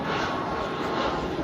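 An airplane passes overhead on a night out in Bordeaux, a steady broadband engine roar that fills the whole moment at constant loudness, with no voices over it.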